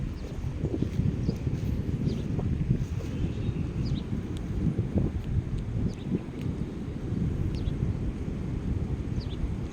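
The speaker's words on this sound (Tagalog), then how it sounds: "Sariwa ang simoy ng hangin." Steady wind rushing over a beach near a fishing pump boat, a continuous broadband roar from start to end with no talking.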